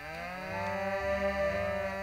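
Cow mooing in the fantasy video game Aveyond: Lord of Twilight, Brightwood Forest, one long, loud, drawn-out moo with a falling pitch, heard alone.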